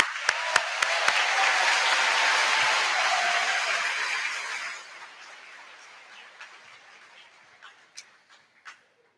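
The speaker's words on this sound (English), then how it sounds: "Can we get another round of applause?" A crowd at a middle school eighth grade promotion ceremony claps steadily for several seconds, loud and dense, then thins out to a few scattered claps as it dies away.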